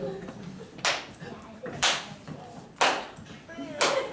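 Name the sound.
sarcastic clapping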